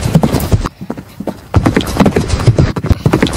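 Horse hooves clip-clop on the floor of a stable in close, irregular clusters of hard thuds, briefly pausing before the clattering resumes.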